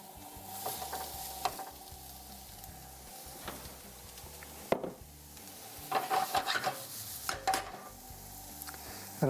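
Onions cooking in a hot pan with garlic-infused olive oil, a quiet sizzle beneath intermittent stirring scrapes and clinks of utensil against cookware.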